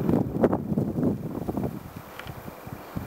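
Gusty wind buffeting a microphone outdoors in the mountains, rumbling in uneven bursts that ease off toward the end, with no talk.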